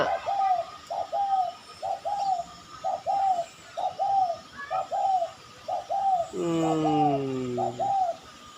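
Repeated soft cooing calls from wild birds in a steady rhythm, with a brief higher bird call midway and a louder harmonic call near the end, over faint outdoor background in Kanchanaburi, Thailand.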